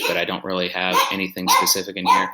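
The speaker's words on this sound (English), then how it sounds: "I apologize for my dogs barking in the background." Several dogs bark in the background of a home office, sharp yips rising intermittently beneath steady close-up talk from someone speaking throughout.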